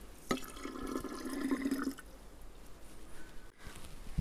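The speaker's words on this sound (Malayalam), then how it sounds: "ആ വെള്ളമാണ് ഇത്. ഇത് നമുക്ക് ഇതിനകത്തേക്ക് ഒഴിച്ചു കൊടുക്കാം." Beetroot-tinted strained water for homemade red wine pours into a container in a short, close splashing burst lasting under two seconds, followed by quieter handling and room noise.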